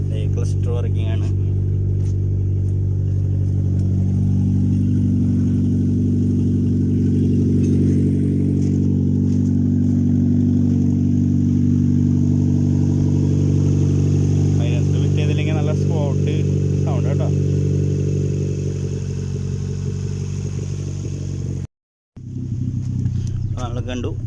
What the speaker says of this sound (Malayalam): ഇതിപ്പോൾ സൈലൻസർ ഫിറ്റ് ചെയ്തിട്ടില്ല, അതിന് ഇങ്ങനത്തെ സൗണ്ട് വരുന്നത് കേട്ടോ